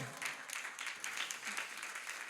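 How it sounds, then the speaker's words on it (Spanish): Church congregation applauding in praise during a Spanish-language sermon, a steady patter of many hands clapping for a couple of seconds, fairly close and without speech over it. "Vamos, dale palmas de alabanza al Señor."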